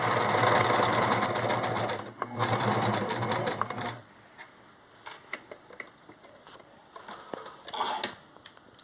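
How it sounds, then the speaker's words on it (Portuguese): Sewing machine running a straight closing seam, a fast steady mechanical chatter for about four seconds with a short pause, then stopping; scattered handling clicks and light taps follow. "vou fazer uma costura reta de fechamento"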